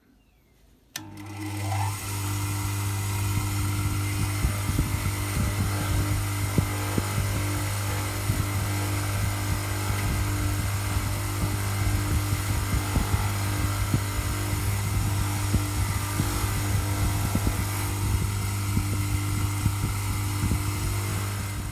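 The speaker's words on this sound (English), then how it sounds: "we'll get it on the Scotch-Brite wheel and give these a clean up" A Scotch-Brite wheel spins steadily, cleaning up pitbike subframe bolts, with a loud continuous motor hum and an abrasive whir that starts abruptly after a second and holds at an even level throughout, with no talk.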